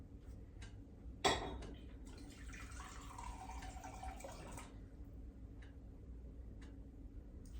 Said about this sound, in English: And then half a cup of water.